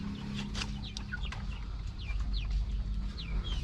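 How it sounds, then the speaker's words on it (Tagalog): Chickens cluck and chirp in short scattered calls at moderate distance, over a low steady background hum, with no talking. "mga manok natin bali nalagyan na natin sila ng inumin nila"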